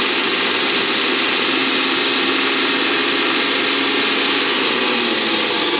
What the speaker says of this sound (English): We're going to rev it a little bit